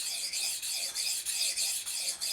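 Esee 3 knife sharpened freehand on a stone, using exaggerated sweeping strokes to follow a pronounced belly curve; steady rhythmic rasping scrapes, about eight strokes in quick succession, close and fairly loud with no talk.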